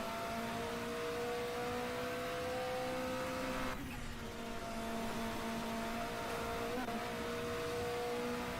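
Race car from the RSS Classic Endurance Pack game, its engine holding a steady, loud whine with a couple of quick pitch drops as it downshifts, continuous throughout.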